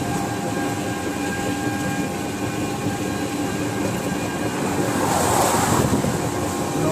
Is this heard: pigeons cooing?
no